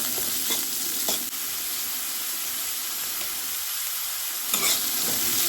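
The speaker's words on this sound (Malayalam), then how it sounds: "ഇനി ഇതിലേക്ക് ഒരു മൂന്ന് പച്ചമുളക് ചെറുതായി അരിഞ്ഞതും ഒരു വലിയ സവാളയുടെ പകുതി ചെറുതായി അരിഞ്ഞതും കുറച്ച് ഉപ്പും കൂടെ ചേർത്ത് നന്നായിട്ട് വഴറ്റിയെടുക്കാം" Chopped green chillies, onion and salt sauté in a hot pan, giving a loud, continuous sizzle broken by occasional scraping stirs, with no one talking.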